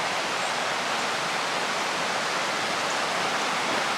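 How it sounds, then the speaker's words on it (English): Rushing river water at an Elk River trail crossing, a steady, full-bodied roar of flowing water with no pauses or other sounds. "I love how I can just hear the rushing water from like hundreds of feet away still"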